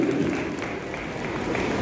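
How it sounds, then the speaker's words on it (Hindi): Applause from an audience at a Hindi comic poetry recital at the Nauchandi fair, a steady even patter of clapping with faint crowd murmur, sustained throughout without a break. "लेकिन ताली के साथ हंसे तो मुझे आवाज आ जाए"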